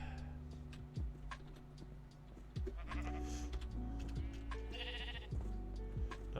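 Sheep bleat repeatedly in Minecraft Stoneblock 3, short game-style cries rising and falling over a steady low game ambience with ticking sounds, close and fairly loud.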